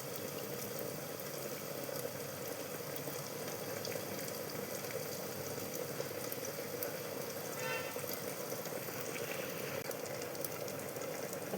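Fish fries in a pan of hot oil at home, a steady, close, even sizzle with faint crackles that continues throughout at low volume.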